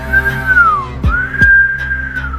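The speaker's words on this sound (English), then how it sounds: "Inhale, exhale through the mouth in a whistle" Breath pushed out through the lips as a whistle, a sustained clear tone that slowly falls, breaks briefly, then rises and holds, with a couple of soft clicks in between.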